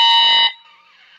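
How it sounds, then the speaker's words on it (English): A single loud air horn blast lasts about half a second, then a faint lingering tone and a brief sharp burst at the end, heard over a phone line during a call to a pizza restaurant. "It's an air horn."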